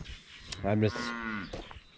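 A single long moo from dairy cattle near dry cows on a farm, rising and holding as one drawn-out bellow over quiet background.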